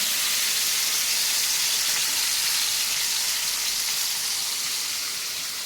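Chicken pieces frying in hot oil in a home kitchen, a steady, bright sizzling hiss that holds throughout and fades slightly toward the end.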